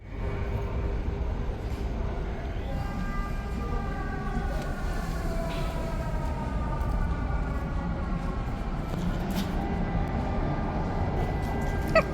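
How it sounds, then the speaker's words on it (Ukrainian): An air raid siren in the Ternopil region wails steadily in the distance, its rising and falling tones running beneath a constant outdoor rumble for most of the stretch. "Так, да, тут по-іншому сирена."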